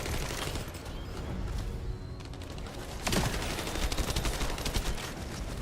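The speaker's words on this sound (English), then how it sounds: "Where I am doing a lot of just shooting, so like at least the shooting is good." Sustained rapid gunfire from The First Descendant rattles in dense, loud bursts, near and continuous, with a heavier volley starting about halfway through.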